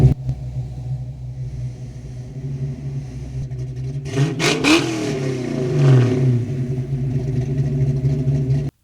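A Fox Body Mustang with a FlowMaster 40 Series exhaust idles with a deep rumble, then revs sharply and climbs before settling back to a loud, burbling idle, close and without talk.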